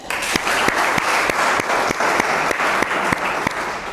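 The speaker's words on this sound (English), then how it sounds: "Please clap for Simran." An audience claps steadily for a student after a poetry recitation at a school event, a dense, even round of applause lasting throughout with no talking over it.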